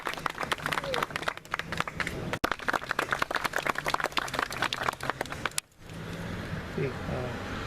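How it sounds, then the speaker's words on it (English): Outdoor ceremony audience applauding steadily with dense claps for about five seconds, ending in a sharp break, then quieter open-air ambience with faint voices. "Let's give them a round of applause."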